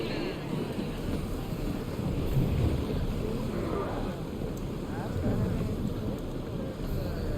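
A sailing ship at sea in Assassin's Creed Odyssey gives a steady, rumbling wash of wind and water, broad and continuous throughout, with faint creaks and distant voices beneath.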